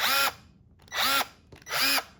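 A Ryobi ONE+ cordless drill spins up in three short bursts of roughly a quarter to half a second each, with a loud, close motor whine and quiet pauses between them.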